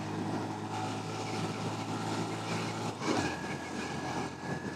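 A Honda Monkey motorcycle engine runs flat out around a bend and uphill, a steady, strained drone held loud throughout with a brief surge near the end and no voices.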